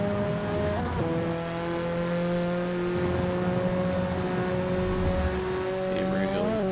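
Engine of a 2005 Subaru WRX STI in Forza 6 drones steadily under acceleration, holding one tone with a brief dip near the one-second mark and rising again toward the end, loud and continuous.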